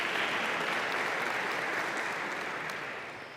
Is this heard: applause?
yes